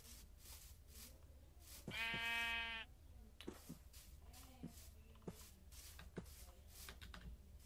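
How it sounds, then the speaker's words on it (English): A Minecraft sheep gives one clear, close bleat amid quiet game ambience, with scattered keyboard clicks and a few short tones before and after. "There's three sheeps."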